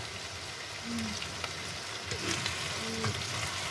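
Onions and tomatoes fry in a pan, giving a close, continuous sizzle with a few soft stirring scrapes and spatters over a short stretch, no voices.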